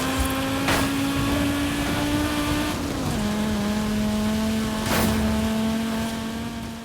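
A level 3 Audi Quattro in a racing video game drives steadily with a sustained engine drone, the pitch dipping briefly as it shifts, then holding level with faint tire noise.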